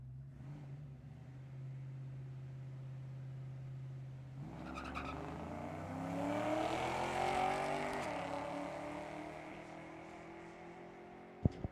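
Drag race cars launching down the track at a drag racing event, one of them a Mustang, with engines idling and then a roaring, rising surge of acceleration that fades off into the distance.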